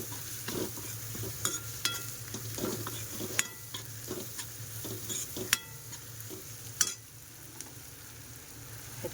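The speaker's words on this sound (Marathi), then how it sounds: "हे चांगले तेलावर परतून घेऊया" Spice powder, homemade masala and coriander-cumin powder, sautés in oil in a pan with a low steady sizzle, broken by frequent scraping taps of a spoon stirring against the pan; no one speaks.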